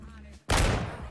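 A .50 caliber gunshot from a FiveM video game sound pack bursts out loud and close after a brief low hum, ringing with a long decaying boom.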